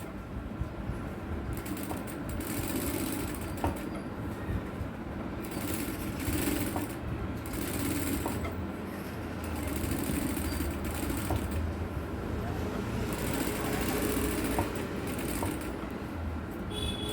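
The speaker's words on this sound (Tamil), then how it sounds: "இதில் 2 தையல் போட்டுக்கிறேன்." A sewing machine stitches a blouse, running with a steady, continuous whirring drone and faint rhythmic ticks for the whole stretch, fairly close and with no talking.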